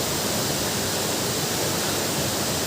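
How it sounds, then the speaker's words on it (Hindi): A hidden waterfall in Assam sends up a steady, dense rush of falling water, loud and close, with no voices. "लास्ट टाइम में हम लोगों को मिल गया है वाटरफॉल।"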